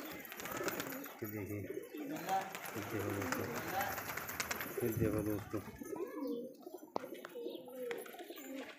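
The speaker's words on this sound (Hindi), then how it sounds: "देखिए थोड़ा करीब से दिखाता हूँ आपको कबूतर" Pigeons coo in low, repeated throaty bursts close by, with wing flutters and someone talking over them.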